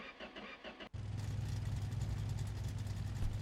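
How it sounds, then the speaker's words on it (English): A truck engine cranks and catches after a brief pause, then settles into a steady, loud, rumbling idle close by. The exhaust has been repaired and no longer leaks. "And there we go, just like that, she fired up quite easily."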